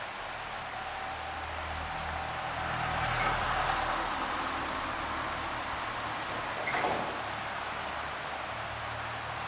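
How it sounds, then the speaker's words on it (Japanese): Road traffic outside a historic Japanese hotel in Hida-Furukawa heard through a room window above a river, a steady broadband hum with a few vehicles swelling past at moderate distance. "車の音も少し聞こえますね。"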